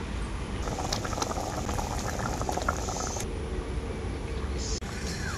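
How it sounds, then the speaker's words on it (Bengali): Fish curry gravy, a yogurt-based rohu curry, boiling hard in a pan, giving a steady close bubbling and seething roar that holds the whole time without any talking. "ঝোলটা খুব ভালোভাবেই ফুটে গেছে।"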